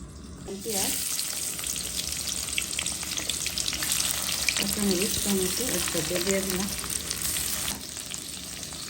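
Oil poured into a hot pan for chicken gizzard and liver bhuna with potatoes sizzles into a loud, continuous frying hiss, close up, with faint clinks and stirring scrapes partway through and no talk.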